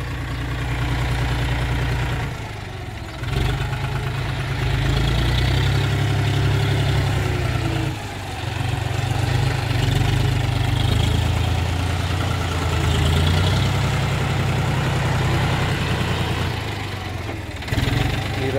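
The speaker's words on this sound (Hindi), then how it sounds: "मिट्टी फैलाता हुआ ट्रैक्टर।" A tractor spreads soil at a colony construction site, its engine a steady low chugging drone that dips briefly a few times, then picks back up, close and continuous throughout.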